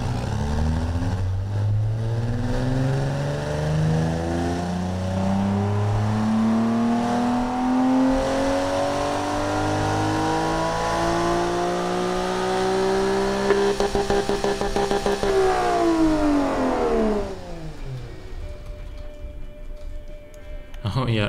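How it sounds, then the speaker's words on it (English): A car engine in the Automation game, fitted with headers and straight-through mufflers, climbs from a high idle up to the rev limiter, holding a loud rising drone before bouncing roughly off the limiter and dropping away. "it doesn't sound very healthy when it hits that rev limiter"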